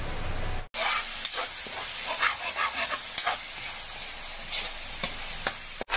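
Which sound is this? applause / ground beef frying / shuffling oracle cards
ground beef frying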